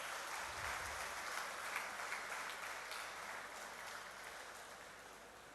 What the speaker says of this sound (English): Comrades, give a huge round of applause.